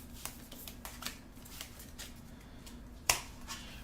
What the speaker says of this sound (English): Let me shuffle these last 3 because I saw.